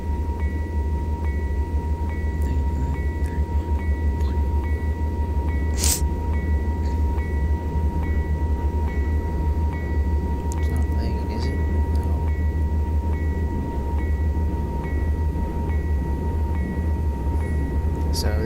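A freight train in a train driving video game runs as a steady, loud, low rumble with a faint high tone above it, continuous throughout without pause.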